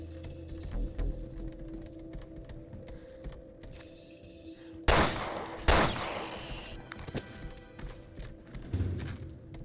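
Two sharp, loud shotgun blasts from a double-barrel shotgun in a video game, fired about a second apart over a backdrop of game ambience and faint clattering.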